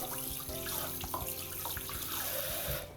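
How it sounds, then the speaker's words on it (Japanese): Shrimp being rinsed under a running tap in a sink, with a steady stream of water and irregular splashes and sloshes as the shrimp are moved around. "水で洗います。"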